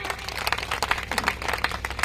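An audience claps for the seniors seated on stage at a ceremony, a short burst of fairly quiet, dense applause with uneven hand-clap bursts throughout.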